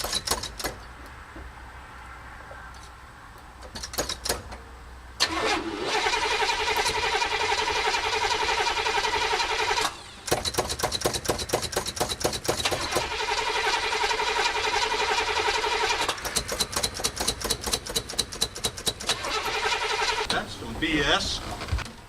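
A 1967 Buick GS340 engine with the choke wide open is cranked over and over, with long bursts of starter whirring, brief pauses between attempts and rough intermittent firing.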